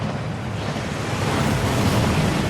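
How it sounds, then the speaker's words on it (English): Rushing waterfall inside a Gringotts vault in the video game Hogwarts Legacy, a steady, dense roar of falling water that swells slightly louder toward the end, with no voices. "That waterfall washes away all enchantments."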